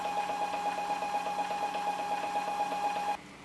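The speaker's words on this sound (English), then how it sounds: "Here's the decibel reading when the version 1 DOS doses 60 mils in a minute." A Neptune Systems DOS version 1 dosing pump runs while dosing 60 ml over a minute, giving a steady whirring hum with a fine pulsing texture. It continues evenly at close range, then cuts off near the end.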